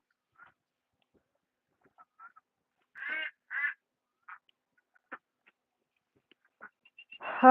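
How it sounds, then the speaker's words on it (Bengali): Farm ducks give scattered short quacks on a duck farm, a few separate calls spaced out over quiet, moderately near, with a louder burst at the very end. "এখন আমার আসলে হাঁসগুলো উঠে যাচ্ছে"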